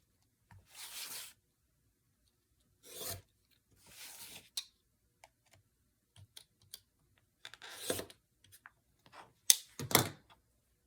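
Scissors cutting through fabric scraps for quilt triangles, heard as a handful of separate rasping snips with quiet gaps between them, close and fairly soft, with no talking.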